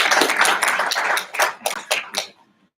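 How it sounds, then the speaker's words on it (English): An audience at an ethical leadership summit gives a round of applause, dense clapping that thins into a few last scattered claps and fades to silence within about three seconds. "A big round of applause."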